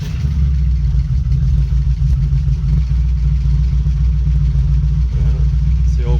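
A Rover P-series V8 with side-exit exhausts and a Crower cam idles steadily on a warm day, a loud, deep, continuous rumble with a slight uneven lope and no talking over it.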